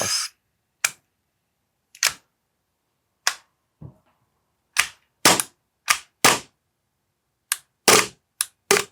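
Test shots from a gas-powered gun: about a dozen sharp, loud cracking pops spaced irregularly over several seconds, each standing alone against silence.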